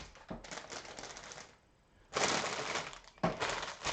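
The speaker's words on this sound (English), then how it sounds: "You like the crinkly noises?" Plastic bags full of LEGO pieces for the Queen Watevra's Space Palace set crinkle on a table nearby, in three loud rustling bursts separated by a quieter pause.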